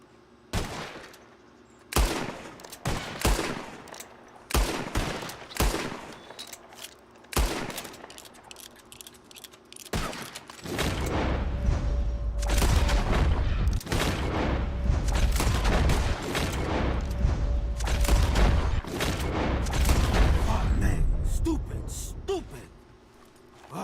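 Rapid gunshots fired at flying birds outdoors, a burst of sharp cracks early on followed by a long, loud stretch of sustained fire with people talking around it.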